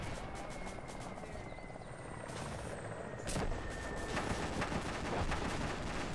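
Tank rounds and gunfire in a military video game, heard as a continuous rumbling, rotor-like din with dense low crackle, swelling louder about halfway through and staying steady, with no voices.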